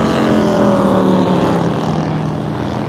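Engine of an Indian racing motorcycle in MotoAmerica qualifying, a loud, sustained roar with shifting pitch as the bike passes close by on the track, fading slightly toward the end.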